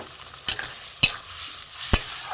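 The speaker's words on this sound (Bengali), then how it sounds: "এতে আমি এই ভেজে রাখা পটল আর আলু দিয়ে দেবো।" Fried pointed gourd and potato pieces going into a pan with a spiced sauce and a little water: a steady soft sizzle with three sharp clinks and scrapes of stirring, close by and without speech.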